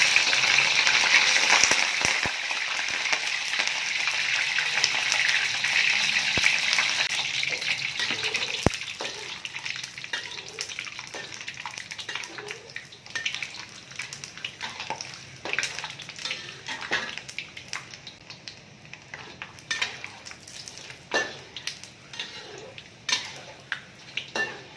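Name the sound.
peanuts frying in a pan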